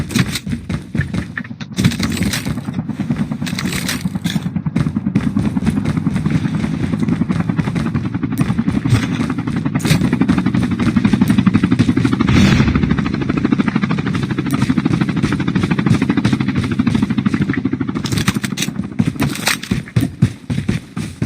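Helicopter rotor drone in the mobile shooter game Call of Duty Mobile, a loud continuous low thrum lasting throughout with dense game effects and scattered gunfire-like clatter layered on top.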